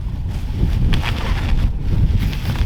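Strong gusty wind blasting across the microphone outdoors beside a wood-fired pizza oven being set up, a loud continuous rumble with swelling gusts and no voices.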